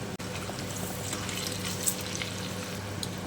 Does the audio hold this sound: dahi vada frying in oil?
yes